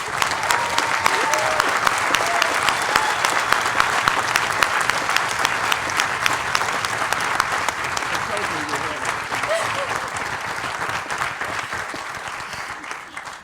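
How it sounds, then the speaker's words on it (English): Graduates at a Burlington College commencement ceremony applaud in a long, sustained burst of crowded clapping, even and fairly loud throughout, with faint voices mixed in. "So give yourselves a round of applause."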